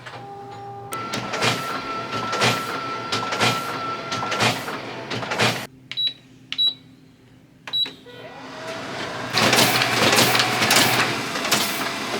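A Riso digital duplicator prints zine pages with rapid rhythmic mechanical clacking and whirring, pauses briefly with a few isolated clicks and beeps, then starts up again loudly.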